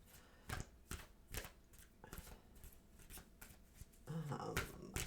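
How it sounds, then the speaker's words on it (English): A deck of stiff tarot cards is shuffled by hand, a run of crisp riffling bursts and snaps close up, with a brief voice near the end. "These cards are very hard to shuffle."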